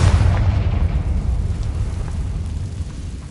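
Confringo blasting spell detonating in Hogwarts Legacy, a loud, deep, rumbling explosion that hits at once and then rolls on in a long, slowly fading roar with no voices over it.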